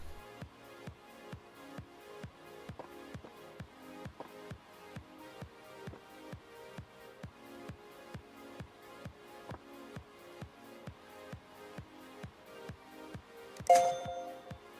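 A device being repaired in a shop boots up; a faint, steady ticking repeats about twice a second before a single bright startup chime rings out near the end.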